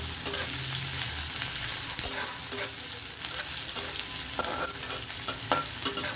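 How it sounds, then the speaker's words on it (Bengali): Chopped onions hitting hot mustard oil in a wok give a steady, loud sizzle and crackle with occasional scraping stirs, alone without voices. "তেল গরম হয়ে গেছে, এর মধ্যে আমি দুটো এবার কুচি করে রাখা পেঁয়াজটা দিয়ে দেবো।"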